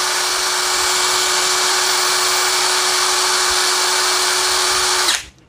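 A Kamolee 700 Nm cordless impact wrench running freely, a loud, steady high-pitched motor whine held for about five seconds close to the listener before it stops abruptly and spins down, with no talk.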